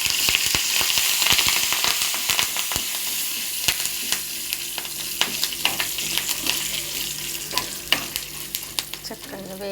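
Asafoetida and curry leaves fry in a pan of hot oil for tempering, giving a steady close sizzle broken by sharp crackling pops throughout.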